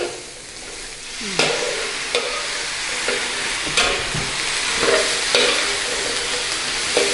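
Vegetable stems being stir-fried in a pan in a home kitchen, a continuous loud sizzle with repeated scraping strokes of a spatula every second or so, close up and without talking.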